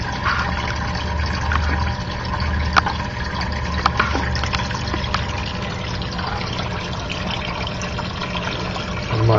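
Water bubbles and trickles steadily in a pixie frog's tank, a soft continuous gurgle from an aerator with occasional small clicks and a low hum beneath.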